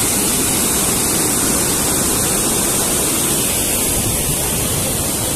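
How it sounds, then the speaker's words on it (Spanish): Loud, steady roar of water rushing through the floodgates of a dam on the Mayo river, heard as continuous close-up noise with no talking. "Aquí estamos en la parte donde están las compuertas de la represa sobre el río Mayo."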